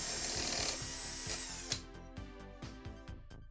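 A power drill fitted with a custom bit made from sharpened, flattened high-tensile wire whines at high pitch for nearly two seconds, then stops and starts in a string of short, close bursts.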